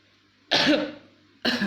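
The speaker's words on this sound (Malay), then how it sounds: "Maaf saya terbatuk sikit." A single sharp cough bursts out close by, trailing off, followed quickly by the start of another cough.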